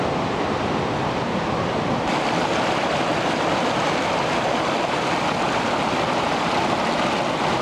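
River water rushes loudly and steadily while a found silver earring is rinsed in it. A constant wash of flowing water with wind buffeting close to the microphone, and no voices.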